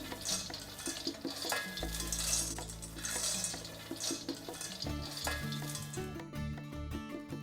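Roasted peanuts are scraped and poured from one kitchen vessel into another, giving a busy rattling, scraping patter with metallic clinks that comes and goes in bursts over several seconds, close and without speech.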